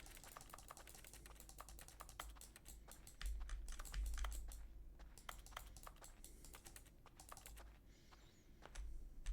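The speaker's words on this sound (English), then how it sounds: "So anytime I click, it just makes keyboard noises." Keyboard clicking in The Stanley Parable video game, a steady run of quick, crisp key taps with uneven rhythm and small pauses, close and fairly quiet over a low hum.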